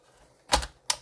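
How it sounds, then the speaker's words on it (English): Blue bokeh-print cardstock being trimmed to size on a paper trimmer, two sharp close clicks or cuts in quick succession against near silence. "And I am going to cut this down to"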